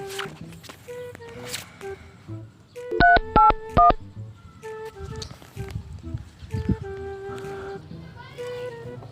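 A quick run of bright electronic keypad tones, several beeps in close succession, with voices and background chatter around them.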